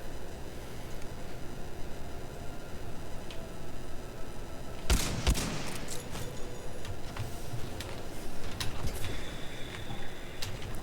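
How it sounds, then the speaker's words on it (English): A frag grenade blast in Titanfall 2, used for a frag boost: a single sharp explosive burst about midway, standing out against constant game background noise, with a few smaller crackling hits afterward. "Perfect frag boost."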